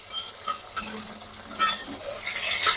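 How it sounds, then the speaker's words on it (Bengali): Hilsa fish heads fry in hot oil in a pan, a soft steady sizzle broken by a few sharp scrapes and clinks of a utensil stirring, close and fairly quiet. "এখন আমি ইলিশ মাছের মাথাগুলো ছেড়ে দেবো তেলের মধ্যে।"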